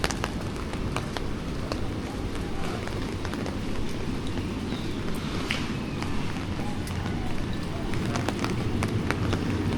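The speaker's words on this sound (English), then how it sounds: "Today's rain is so big, fate. I'm holding an umbrella," Heavy downpour drumming steadily on a held umbrella on a very rainy day in Jiefangbei, a dense continuous patter with sharper individual drop hits, loud and close throughout without a break.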